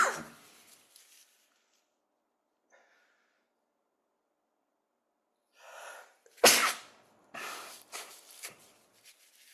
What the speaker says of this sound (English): It's going to be 3 or 4 sneezes.